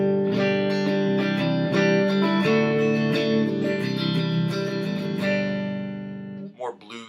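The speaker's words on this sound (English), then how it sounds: "Let's switch to neck and middle." Electric guitar tone from the neck and middle pickups together, strummed chords ringing steadily for about six seconds, then fading out into a brief pause and a few quieter picked notes.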